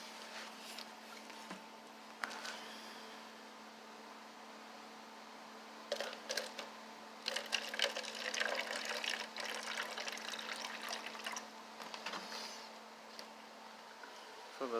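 Liquid for plant care is poured into a container close by, with a steady watery trickle broken by louder splashing, gurgling bursts midway as it fills, heard alone without talk.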